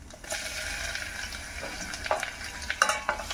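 Cumin, urad dal and garlic tempering in hot oil, a bright continuous sizzle and crackle broken by scraping stirs near the close, with no voices.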